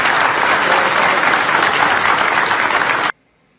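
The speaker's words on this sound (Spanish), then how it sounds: "Pido un aplauso, por favor." A crowd bursts into sustained, loud applause at a political gathering, dense clapping holding steady for about three seconds before cutting off abruptly to near silence.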